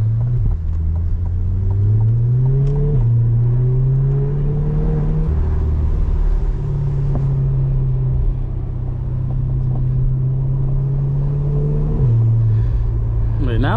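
A C8 Corvette with straight exhaust rumbles loud and close during a drive, the engine note climbing and dropping as it accelerates and shifts, a steady deep drone across the whole stretch.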